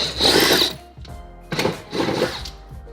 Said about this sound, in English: I just happen to have the drill, so we'll just zap these off.